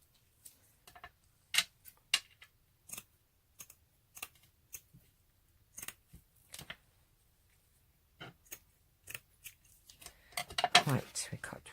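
Scissors snip through old book pages in a quiet room, a series of short sharp cuts spaced irregularly, then a faster rustling flurry of snips and paper handling near the end.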